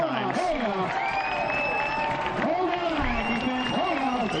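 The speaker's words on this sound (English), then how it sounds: "The crowd is on its feet." A football crowd at a high school varsity game rises to its feet, cheering and clapping in a loud, steady roar, with an announcer talking over it.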